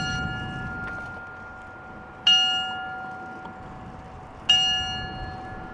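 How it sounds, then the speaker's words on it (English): A memorial bell tolls for tornado victims in Moore at a gathering of survivors and first responders. Two clear, ringing strikes are heard, evenly spaced, each decaying slowly over a quiet outdoor background. "The bell sounded 25 times, representing the 24 people that were killed by the storm and one who died sometime later."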